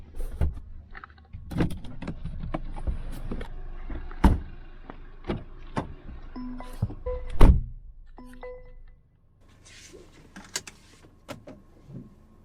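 A motorized cup holder cover opens inside a 2022 Mercedes-Benz C-Class, giving a soft electric whir amid a series of close, sharp clicks and thunks, followed by quieter rustling.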